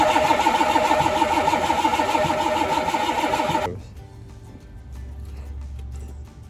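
A 1992 Chevy with a TBI engine cranks loudly and rhythmically after a module repair, the starter churning for several seconds before cutting off abruptly, leaving quiet low rumble.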